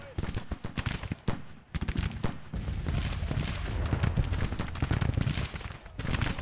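Rolling infantry musket volleys from an American Civil War battle in the video game Grand Tactician, 1863. Dense, crackling shots come close and loud, then merge into a continuous roar of massed fire.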